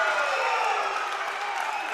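Crowd cheering and roaring at a 2016 Nationals volleyball match between Randall and Bob Jones, a steady, dense wash of voices sustained throughout at moderate loudness.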